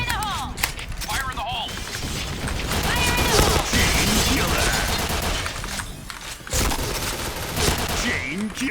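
Gunfire in the video game PUBG, with rapid bursts and volleys of shots that go on almost without a break at high volume, under and between players' excited talk.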